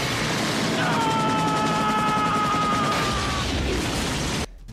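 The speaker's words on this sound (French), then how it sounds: "une moto va passer à travers la fenêtre et faire exploser un hélicoptère" Stunt scene from the 1991 action film Stone Cold, a motorcycle bursting through a window and blowing up a helicopter: a dense, loud wall of roaring blast noise with a whining tone, continuous for over four seconds before cutting off abruptly.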